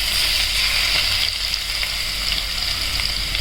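Garlic fries in hot oil alongside cumin seeds in a pan for a yogurt kadhi tempering, giving a loud, dense, continuous sizzle close up with no talking.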